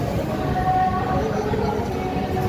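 The Janmabhoomi Express from Visakhapatnam to Lingampalli pulls out of platform 3 at a station, a steady, continuous rumble of train noise at an even loudness throughout.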